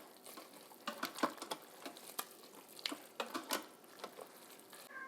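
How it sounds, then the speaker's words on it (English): Shrimp scampi pasta stirred in an Instant Pot, soft wet scraping and clacks of a spoon against the pot, irregular and fairly faint, with a light bubbling bed underneath. "let me give it a good stir."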